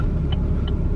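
A car passes close by on a road, heard as a loud, steady low rumble filling a brief moment.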